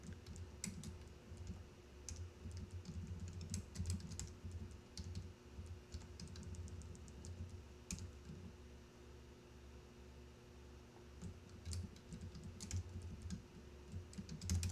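Computer keyboard being typed on during a coding session, a steady stream of soft, close key clicks in uneven bursts and pauses over a quiet background hum.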